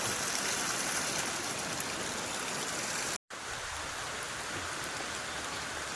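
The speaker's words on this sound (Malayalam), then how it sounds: "ഒരു രക്ഷയില്ലാത്ത മഴയാണ്ട" Heavy rain pours steadily in a dense, hissing roar, broken once by a brief moment of silence before resuming.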